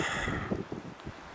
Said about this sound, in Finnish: kun täällä tuulee niin mahdottomasti